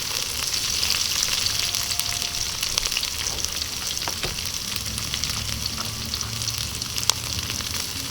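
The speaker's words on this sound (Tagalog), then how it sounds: "isusunod ko na pong gisahin itong sibuyas" Chopped onion sautéing in a pan with golden-browned garlic for adobong kangkong with tofu, giving a steady, close sizzle with occasional stirring scrapes and no talk.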